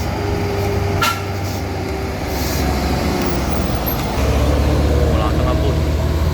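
An intercity bus bound for Medan from Java pulls out of a terminal and speeds off, a heavy low rumble of engine and road noise that swells louder partway through, with brief higher whooshes of passing traffic.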